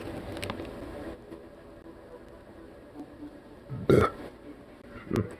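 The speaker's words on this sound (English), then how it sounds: "That's a fairly okay burp right there." A single loud, guttural burp rises abruptly from a quiet room hum, followed moments later by a smaller second burst; no talking.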